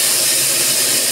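Spice paste sizzling loudly in hot oil as a Bengali bata fish curry with raw banana and drumsticks is prepared, a dense continuous hiss close to the pan.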